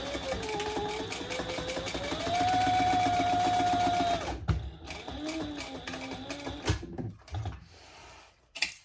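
A sewing machine runs in a fast, even whir as it stitches rows across a cork fabric bag, then stops, leaving a few quieter clicks and handling noises.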